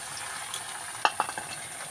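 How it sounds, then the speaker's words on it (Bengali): A spice paste of cumin, turmeric, salt, ginger and garlic fries in a pan with a soft, quiet sizzle, punctuated by a few brief sharp crackles and scrapes of stirring near the middle. "মশলাটাকে আমি ভালো করে কষিয়ে নেব"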